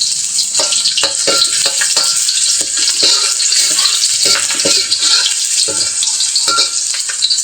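Onions sizzling in a hot pan for a Filipino sautéed clam dish, a steady bright hiss with repeated scraping stir strokes throughout, loud and close with no talking.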